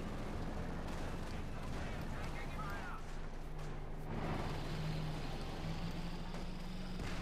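Gunfire strikes a bunker in a Company of Heroes 2 battle, a continuous wash of shooting and rumbling explosions heard at a distance under a steady din, with someone talking over it.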